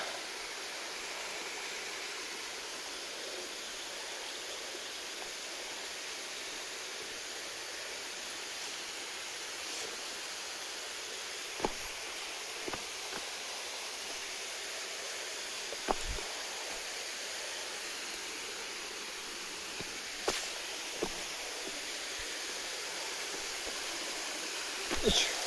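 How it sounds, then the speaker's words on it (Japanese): A mountain waterfall and stream on a descent trail from Higashi-Akaishi, a soft, steady distant rush of falling water throughout, broken by a few brief clicks and knocks nearby. "この滝もすごいな。"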